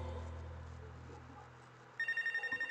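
A telephone in a booth in the video game Life is Strange: True Colors starts ringing after a quiet hum, giving a rapid, steady run of bright electronic ring pulses.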